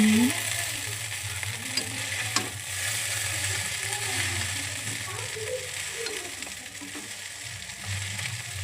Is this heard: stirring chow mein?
yes